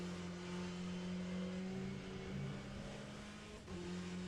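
A GTE race car at Monza in rFactor 2 roars steadily at high revs, its engine a loud sustained drone with a brief dip near the end, no voices.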